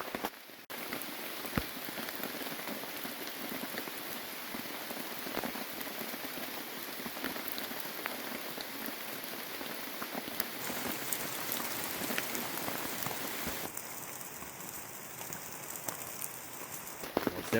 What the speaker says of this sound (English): It's definitely raining outside